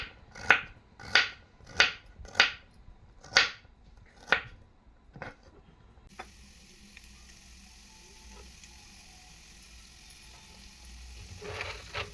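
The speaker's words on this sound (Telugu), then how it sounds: "ఉల్లిగడ్డ పచ్చిమిర్చి ఇలా సన్నగా కట్ చేసుకోవాలి" A knife chops onion and green chili on a board: about eight sharp, evenly spaced cuts close up, then the quiet hiss of a pan.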